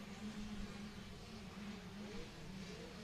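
A 125cc two-stroke motocross bike revs hard and continuously during a spring championship race, a steady buzzing engine drone with rising and falling pitch, mid-distance and fairly loud.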